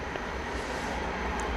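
An American Airlines airliner takes off at DFW Airport, heard as a steady, broadband jet roar with low rumble that holds evenly throughout, with no voices over it.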